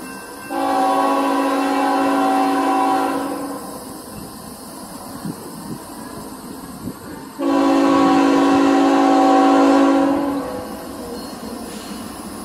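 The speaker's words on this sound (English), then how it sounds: "It's the coal train." A CSX coal train rumbles past steadily while its horn sounds two long, loud blasts separated by a pause.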